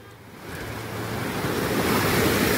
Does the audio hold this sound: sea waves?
yes